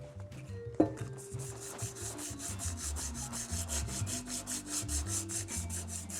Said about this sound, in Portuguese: se eu der uma leve lixadinha, eu vou dar uma fosqueada para aderir melhor o primer